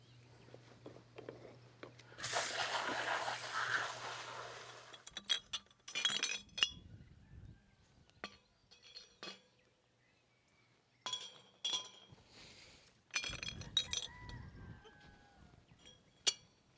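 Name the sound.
glass bottles clinking while being handled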